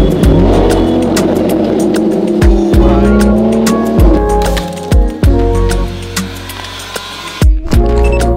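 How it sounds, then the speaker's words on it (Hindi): Kawasaki H2 motorcycle fitted with a full system exhaust revving hard: loud, close engine roars that climb in pitch and drop off sharply several times, with brief pops between the blips. "जोर से रेस दूंगा ब्लैक स्मोक जाएगा"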